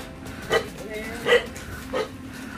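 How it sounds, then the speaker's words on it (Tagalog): A tied-up dog gives three short barks about a second apart at moderate distance, over a low background hum with faint voices. "Yan may aso."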